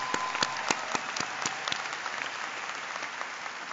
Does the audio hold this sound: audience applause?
yes